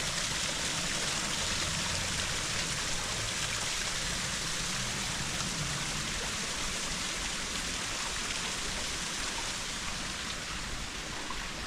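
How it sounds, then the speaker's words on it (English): Water runs steadily off the moors after overnight rain, a continuous rushing stream-like wash heard alone at moderate distance on a railway walk. "Quite a bit of water run off the moors."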